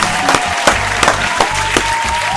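Applause in a podcast studio: a few sharp, spaced claps over a low steady hum, with a faint background tone running throughout.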